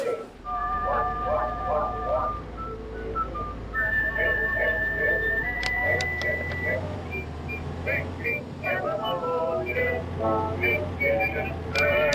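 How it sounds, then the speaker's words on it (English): Whistling in dark woods at night, a series of thin tonal whistles repeating irregularly over a steady low hum, with voices talking throughout. "They're whistling."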